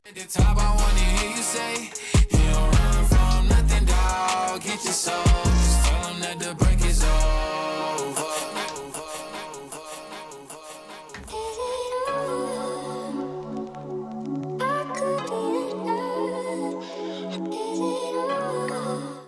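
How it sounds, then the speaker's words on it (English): Dance music with a thumping beat cuts to echoing repeats that trail off, then quieter sustained music carries on. "by just echoing out of that track and almost letting it go to"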